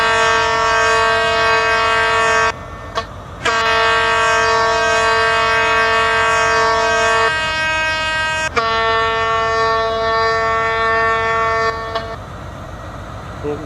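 A remodeled Intercity 125 train departs in the RO-Scale game, sounding a loud, sustained multi-tone horn in long blasts separated by brief gaps, with steady rail rumble underneath and no talking.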